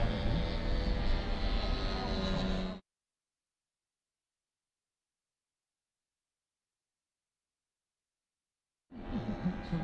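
A model aircraft engine flying at the Weston Park Model Air Show drones loudly and steadily, cuts to silence for several seconds, then returns with the same buzzing tone.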